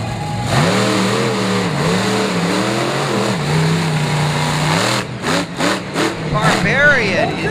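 Trucks racing side by side in the infield of Bristol Motor Speedway, engines revving and climbing in pitch with loud rising and falling whines, close and continuous, while an announcer talks over them.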